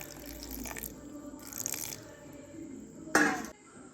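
Water poured into a mixer grinder jar holding soaked rice batter for idli, short splashing pours in a few bursts, the last one louder and closer.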